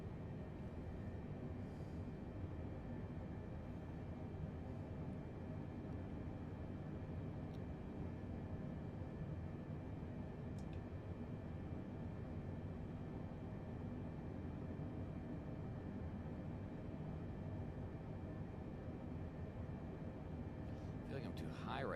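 A flight simulator airplane engine held just below a quarter throttle, a steady low drone running unbroken and fairly quiet throughout.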